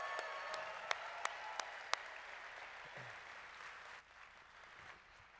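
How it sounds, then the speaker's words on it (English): Applause from an audience at a large live marketing event, faint and distant, with a few sharp close claps early on before the clapping thins out and fades. "let's give everyone a round of applause that's been working here"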